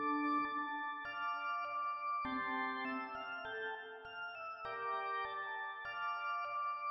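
Synthesized organ tones with added reverb play a slow sequence of sustained chords, fairly soft and steady, with no talking.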